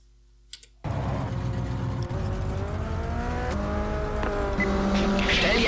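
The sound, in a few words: race car engine running in the pit, GTR 2 video game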